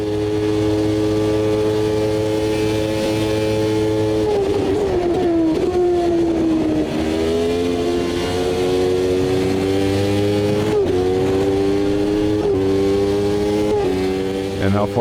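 A 1993 Formula One car's engine in the Automobilista 2 racing game screams at high revs throughout, rising and dipping through gear changes, loud and continuous under a driver's commentary.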